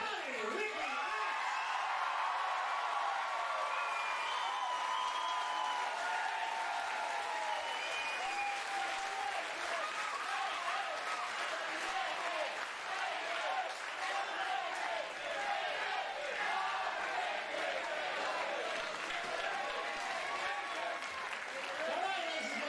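A wrestling crowd applauds and cheers for wrestler Rowdy Ricky Knight, sustained dense clapping with whoops and shouts mixed in, steady and enveloping for the whole stretch.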